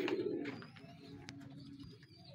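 A racing pigeon coos softly after arriving from a derby race, a few low throaty calls amid light outdoor background noise and brief clicks.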